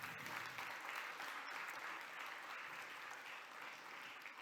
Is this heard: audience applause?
yes